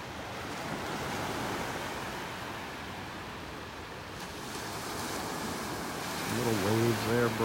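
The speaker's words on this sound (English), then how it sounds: "Little waves there breaking." Small waves break steadily on a beach at North Naples, Florida, a continuous soft surf wash with light wind, the level swelling slightly toward the end where a brief voice-like tone appears.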